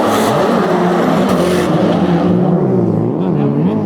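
Four drift cars running in tandem at Mobara Circuit with D1 pro drivers, loud engines revving and wavering in pitch together, with tire noise close by, the roar easing slightly toward the end.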